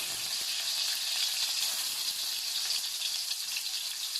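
Steady, even sizzling of garlic sautéing in a hot pan, a continuous bright hiss that holds at moderate level throughout with no talk over it.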